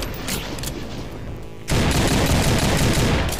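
A chain gunner enemy in the video game High Noon Drifter fires in sustained bursts, the rapid gunfire jumping abruptly into a loud, continuous volley partway through.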